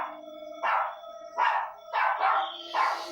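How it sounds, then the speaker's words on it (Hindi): Tuffy the dog barks loudly and close by in five or six sharp, evenly spaced bursts, with a faint steady whine or tone running underneath. "वो जोर जोर से भौंकने लगता है।"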